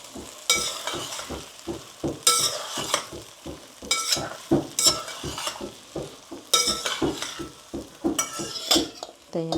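Sago pearls are added a little at a time to a pan over very low heat and stirred with a spoon, giving a steady run of close scraping, clinking strokes against the metal over a faint sizzle.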